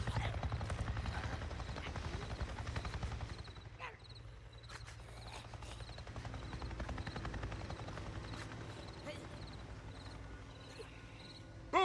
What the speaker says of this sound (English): I just saw a goddamn chopper!